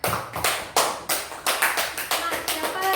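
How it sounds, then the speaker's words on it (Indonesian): Children in a classroom clap in unison, a rhythmic series of about nine loud, sharp claps evenly spaced, close and strong. "Tepuk tangan semuanya."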